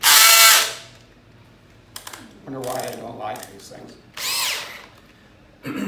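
A power drill whines loudly at the start, followed by short bursts of drilling as it countersinks a hole for aluminum boat building, with a voice talking between them, close by.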